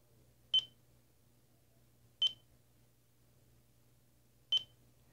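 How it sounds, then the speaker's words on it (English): Three short, bright electronic beeps from a radio control transmitter, evenly spaced about two seconds apart, standing out clearly over a faint low hum. "you'll hear a beep."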